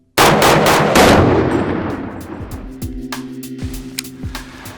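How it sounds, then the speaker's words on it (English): A Daniel Defense DD5V1 .308 rifle fires Federal 175 grain match ammunition outdoors: a rapid string of loud close shots, then a long ringing decay, with spent casings clinking on the ground afterward. "You're shooting Federal 175 grain gold medal match, which is pretty much the gold standard for 308 in this role."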